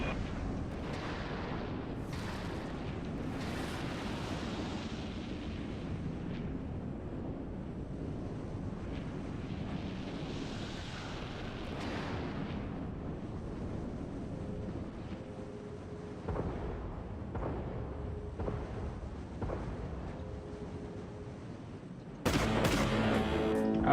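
Heavy cannon fire from an artillery cruiser in the Dreadnought space combat game, with repeated deep booming shots and rumbling blasts over a constant windy roar, and a sharper burst near the end.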